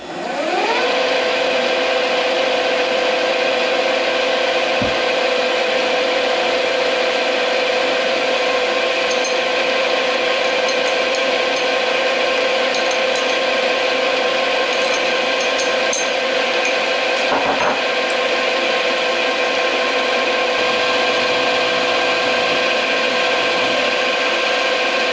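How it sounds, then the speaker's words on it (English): A lathe center drills a workpiece with a loud, continuous tonal machine whine and faint rubbing, holding steady for the whole stretch with a couple of brief ticks and no talk. "now I'm going to center drill this thing"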